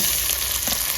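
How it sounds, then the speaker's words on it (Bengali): Onions sizzle in a pan of hot oil with cumin seeds and chopped garlic, a brief, close, steady crackling fry with no voices. "পেঁয়াজগুলোকে লাল লাল করে ভেজে নেবো।"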